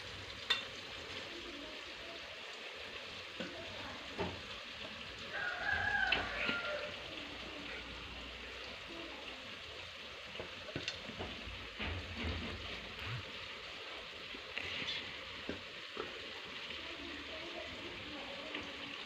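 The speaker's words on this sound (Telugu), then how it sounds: "ఇప్పుడు ఈ బాణీలో వంకాయలు వేసుకోవాలి ఒక్కొక్కటి" Whole brinjals and tomatoes fry in a pan with a faint, steady background sizzle, broken by a few soft stirring clatters and scrapes, with no voices.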